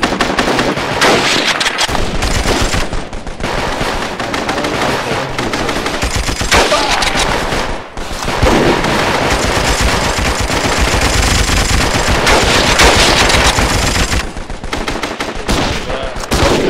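Dense, sustained gunfire from soldiers in Mount & Blade: Warband, a loud continuous fusillade of overlapping musket-style shots rolling on for the whole stretch with only brief dips.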